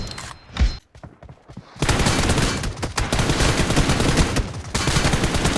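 Dense, continuous bursts of automatic gunfire from the shooter game PUBG Mobile, sparse at first and then a loud unbroken barrage for several seconds.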